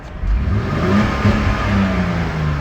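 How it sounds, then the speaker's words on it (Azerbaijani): A Mercedes W210 engine revs steadily after a fix for a power-loss fault, a loud, close, continuous mid-pitched roar that holds for the whole stretch without any voices. "Yenidən qaz veririk."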